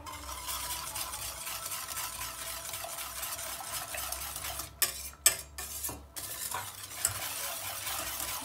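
A sugar, milk and flour mixture being whisked in a bowl, a steady close swishing with a brief pause and a few sharp clinks of the whisk against the side near the end.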